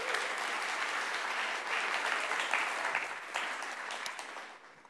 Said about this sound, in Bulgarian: Са на мен или на Радо ръкопляските